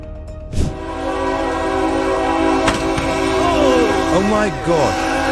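Train horn sounding loudly at a Brisbane level crossing, sustained blaring tones with bending pitch over steady rumbling rail noise, a sharp burst near the start and faint background voices.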